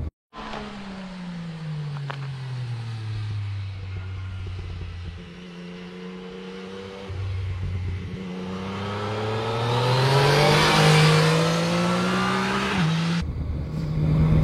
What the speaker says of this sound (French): Je vais avoir un gros freinage.